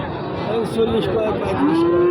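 Cattle moo at a border-area cattle market selling Sahiwal, Friesian and local heifer calves; a close, drawn-out low moo rises into a steady held tone over a busy background murmur.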